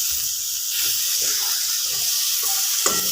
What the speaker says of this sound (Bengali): বেগুনটা দিয়ে অল্প নেড়ে নিচ্ছি